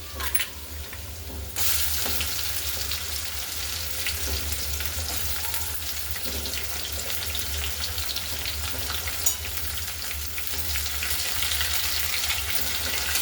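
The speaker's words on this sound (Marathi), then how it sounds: "लसण छान लाल झाला की त्याच्यामध्ये कांदा घालून घ्यायचा" Garlic cloves and onion sizzle steadily in an oil-filled pan while a Vidarbha-style mung vada curry is being made, a dense continuous frying hiss that jumps louder after the first second and a half and stays close and even throughout.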